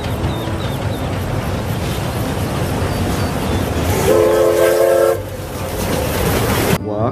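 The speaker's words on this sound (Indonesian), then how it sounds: "yang ini ada kereta Thomas" A Thomas toy train rolls with rumbling wheel noise, then sounds a clear, loud train horn for about a second. A sharp sound near the end cuts the rumble off.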